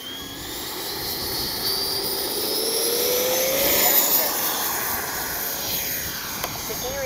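A Freewing 90mm F4 Phantom II RC jet takes off, its electric ducted fan rising from a loud steady whine to a rushing roar that sweeps past and then eases as it climbs away.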